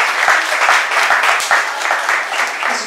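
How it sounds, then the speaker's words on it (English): An audience applauds after a chef's demonstration of saba sugatazushi, a whole mackerel lightly matured sushi, with a brief, dense round of clapping that holds steady at moderate loudness throughout. "And we get a round of applause."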